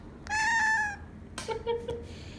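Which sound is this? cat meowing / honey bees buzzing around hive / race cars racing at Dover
cat meowing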